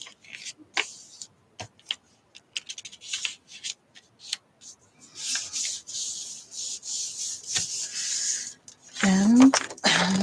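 Sheets of paper for a handmade journal being folded by hand, with soft rustling, rubbing and ticking creases at close range, broken by brief pauses and ending in a louder crinkly sweep.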